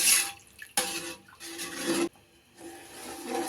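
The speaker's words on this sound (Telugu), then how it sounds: "నీళ్ళు పోసుకున్నానండి ఇది ఒకసారి కలుపుకొని" Water is poured into a pot of chicken biryani in bursts, a rushing, splashing flow that starts and stops several times at close range.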